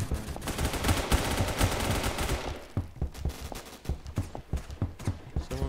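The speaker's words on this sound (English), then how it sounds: "he's trying to shoot at me" Gunfire in the Phantom Forces shooter game: a dense rapid burst of loud close shots, then scattered single shots and short volleys that thin out toward the end.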